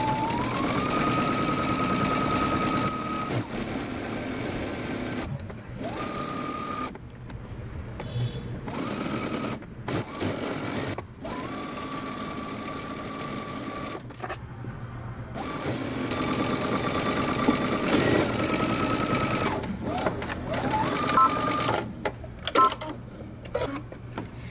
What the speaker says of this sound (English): we're going to continue sewing all the way down our side seam